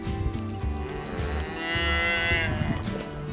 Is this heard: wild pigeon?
no